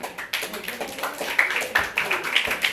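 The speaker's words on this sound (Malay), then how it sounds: "Okey, tepuk tangan dia. Tepuk tangan." Young children in a Malay-language classroom clap their hands, a quick burst of loose, overlapping claps at close range, slightly ragged in timing, with faint classroom noise around them.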